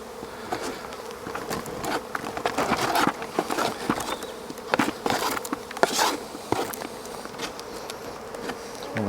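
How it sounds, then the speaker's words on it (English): Honeybees buzz around an open hive during a spring inspection, a steady close hum with sharp passing buzzes and scattered clicks and knocks of frames being handled, no voices. "One or two bees in here"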